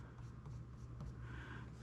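Pencil sketching a shadow onto paper while shading a drawing of glass, a soft continuous scratching rasp held close over a steady low room hum.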